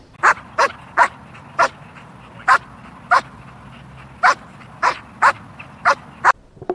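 A black German Shepherd barks on command in a run of about a dozen short, sharp, loud barks at uneven spacing, close by and alone.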